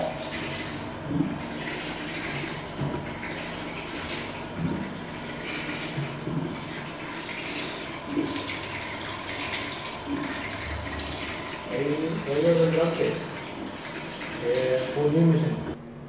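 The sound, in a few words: water filling the tank of a ride-on scrubber dryer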